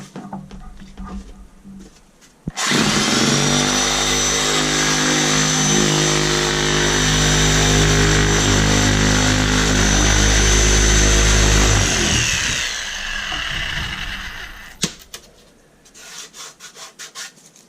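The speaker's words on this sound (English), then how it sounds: "put it in our jigsaw. We made a pretty smooth cut in our foam" A jigsaw fitted with a blade sharpened to a knife edge cuts through foam insulation board in a loud, continuous buzzing rasp of about ten seconds, with quiet handling noises before and after.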